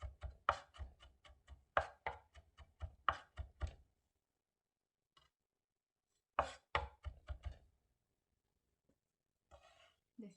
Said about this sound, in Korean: 이렇게 해서 마늘 다졌고요